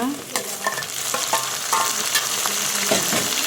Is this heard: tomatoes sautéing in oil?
yes